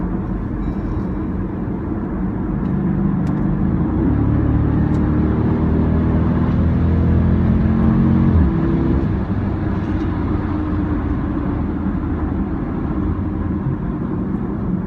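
Jeep Grand Cherokee SRT8 driving in track mode, a loud steady engine drone with a gently rising and falling pitch under constant road and wind roar, heard from inside the cabin.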